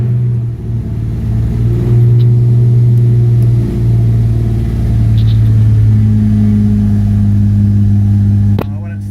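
A Subaru Impreza with a swapped EG33 flat-six engine runs loud and close, a deep steady rumble that hovers at a high idle after starting, with a brief sharp knock near the end.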